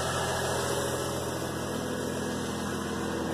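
Close up, a 2003 GMC Envoy with a 4.2 V6 engine idles smoothly and steadily after a misfire repair, with an even, rhythmic pulsing hum and no talk over it.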